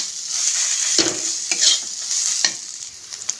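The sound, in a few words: stirring cumin powder into frying vegetables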